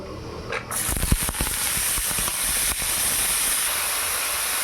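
Radish goes into hot mustard oil with black cumin and whole dried chillies, setting off a sudden loud sizzle with sharp crackles that settles into a steady hiss.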